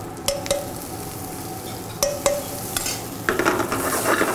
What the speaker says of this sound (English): and saute that a little bit